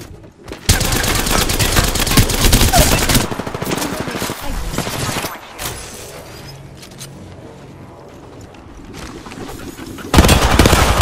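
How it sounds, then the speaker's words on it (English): Rapid automatic gunfire in the video game Apex Legends, loud dense bursts of shots that break off and resume, with a quieter stretch in between and some speech underneath. "Firing! Tossing a grenade. I'm taking shots."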